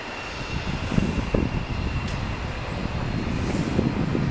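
A United airliner sits on the ground with its jet engines idling, giving a steady distant roar and a faint high whine, continuous and unbroken.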